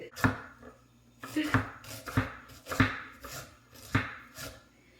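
Knife chopping onions for a homemade spicy chicken curry, five or six distinct, fairly loud chops on a board spaced roughly a second apart, close by with no talking.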